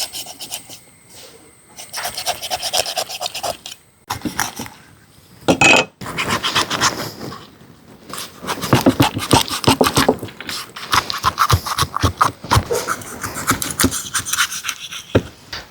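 A whole chicken is butterfly-cut for barbecue, with irregular close rubbing, scraping and crunching bursts as the knife works through it, separated by brief pauses.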